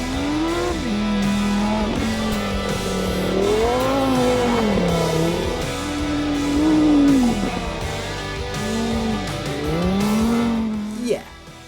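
A Lamborghini Huracán Sterrato off-road supercar with a V10 engine revs and climbs through gears at a desert track, its loud wailing note rising and falling repeatedly with brief tyre squeal, close and dominant throughout.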